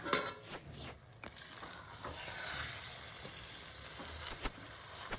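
Eggs fry on a stove in a covered pan over low heat, giving a steady, close sizzle and hiss with a few soft clicks and bumps from the pan throughout.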